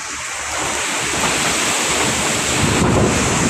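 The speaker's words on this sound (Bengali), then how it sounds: "এই যে এবার হাওয়াটা বলছে" Strong Kalbaishakhi storm wind roars loudly and continuously outdoors, a broad rushing gust that swells and buffets the microphone, building slightly stronger toward the end with no voices.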